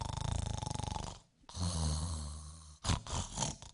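A man vocally imitates a young wife's snoring, first with a rapid rhythmic buzzing rattle, then breathy snorting inhales and exhales, loud and close-up.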